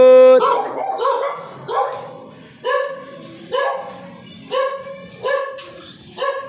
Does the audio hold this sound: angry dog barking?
yes